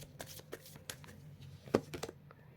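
Tarot cards shuffled and handled during a reading, giving soft, quick papery riffles and flicks close by, with one sharper snap near the end and no speech.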